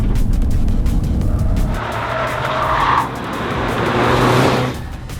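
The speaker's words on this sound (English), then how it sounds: "A lot of tyre squealing." A Toyota MR2 launching from the start of a track race lets out sustained tyre squeal over a loud, steady engine roar, the screech rising and swelling midway before easing off near the end, with no voices.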